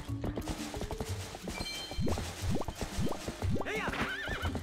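Horse neighing and whinnying in the Zelda Twilight Princess video game, several loud rising-and-falling calls in a row over galloping hoofbeats and game music.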